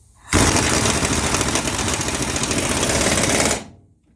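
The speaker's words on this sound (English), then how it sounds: "I have my impact gun not set the whole way, because trust me, you can strip these with an impact gun" A pneumatic impact gun running at partial setting, driving bolts into a Ford Super Duty bed crossmember, a loud continuous rattling hammer burst lasting about three seconds, close up and alone.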